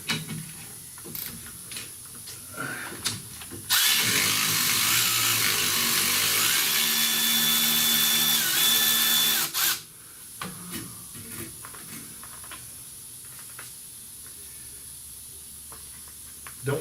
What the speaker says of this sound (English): So there you have it. Milwaukee Ratchet,